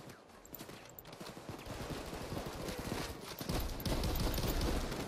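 Rapid, sustained gunfire fills a PayDay 2 firefight, a dense stream of cracking shots that grows louder and heavier toward the end, with no voices over it.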